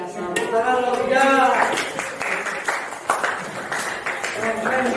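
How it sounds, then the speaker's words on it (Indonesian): Schoolchildren clapping together in a classroom for a group, quick bursts of rhythmic hand claps mixed with voices and cheering, fairly close and lively. "Tepuk tangan kelompok 3."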